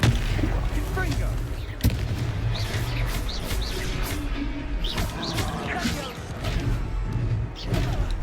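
A Confringo fire spell bursts in the Hogwarts Legacy video game, sending a cluster of sharp blasts and thuds through busy combat noise while voices talk over it.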